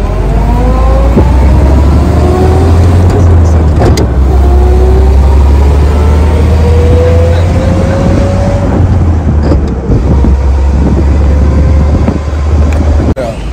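A 100-year-old Rolls Royce car driving along, its steady engine and road rumble loud and close throughout, with rising and falling engine tones as it goes over bumps.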